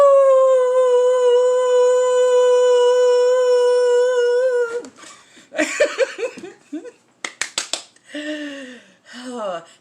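A person howls like a wolf in one long, loud sustained wail, imitating the animal with the voice, followed by snapping and giggling sounds.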